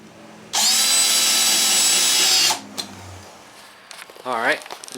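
A power drill whirs loudly for about two seconds, driving fasteners into the trim of a homemade teardrop trailer, then stops; a few knocks follow and a voice speaks briefly near the end.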